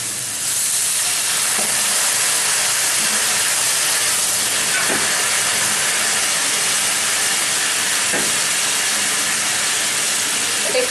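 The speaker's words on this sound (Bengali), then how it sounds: "এবার আমি গরম জল দেবো, আমি জলটা গরম করে রেখেছি।" Hot water poured into a pan of Bengali-style hilsa fish curry with cumin powder, a loud, steady hiss and sizzle that goes on throughout.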